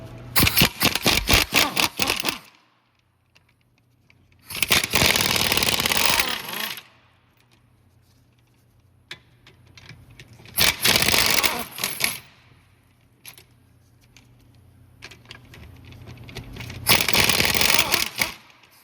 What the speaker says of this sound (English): now we've got to remove these 4 17mm bolts that hold the hub to the knuckle